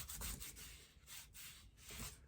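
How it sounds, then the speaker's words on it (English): A paper page is rubbed down by hand onto a small mini album to make it adhere, giving several close, rhythmic papery rubbing strokes, soft and dry, with no talking. "So now I am just rubbing down my page to get it adhered nicely."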